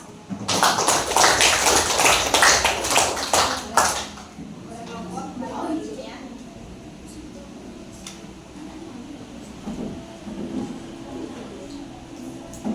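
A classroom gives a burst of applause, many hands clapping loudly and densely for about four seconds before fading into quieter room noise and scattered taps, with a teacher's voice speaking afterward.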